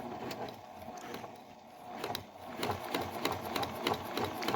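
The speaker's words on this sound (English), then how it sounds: "you want to put your foot down to start it. I'm going to put my foot on here. I should still sew with a needle down." A Pfaff Creative 7570 sewing machine runs under foot-pedal control, its motor humming at moderate volume with a fluttering mechanical rhythm that rises in intensity partway through.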